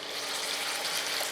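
Steady, bright hissing sizzle as puree goes into a hot pan with oil for a Bengali street-food style aloo sabji, continuous and close with no talking.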